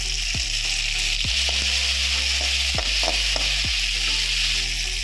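Chopped tomato and mint leaves fry in a pan with a strong, continuous close sizzle, broken by a few sharp utensil taps and stirring scrapes, with no voices.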